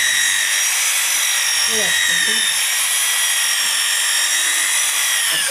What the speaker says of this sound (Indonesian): Kita pakai kompon rapping. Terus kita poles.